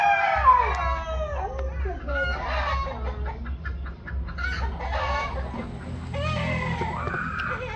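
Several chickens cluck and roosters crow in repeated rising calls at a farmyard, loud and close, with a steady low hum running underneath.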